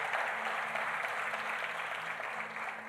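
A church congregation applauds during a Christmas sermon, a fairly faint, even wash of many hands clapping that holds steady throughout.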